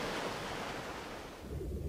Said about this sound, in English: The huge jet sends a tidal wave 25 meters high, racing across the shore